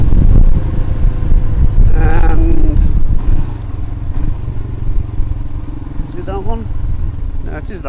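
Royal Enfield Himalayan motorcycle on a road test ride, with a steady low engine drone and rushing wind noise throughout; someone speaks over it.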